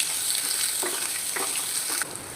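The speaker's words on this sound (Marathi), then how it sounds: "आता आपल्याला टाकायची आहे मोहरी मोहरी तडल्यावरती आपल्याला त्यामध्ये घालायचे आहे जिरे तमालपत्र आलं लसूण पेस्ट आणि हे व्यवस्थित परतून घ्यायचं आहे आपल्याला" Mustard seeds, cumin, bay leaf and ginger-garlic paste sauté in hot oil, a steady hissing sizzle with a few short stirring scrapes, close and alone without voices.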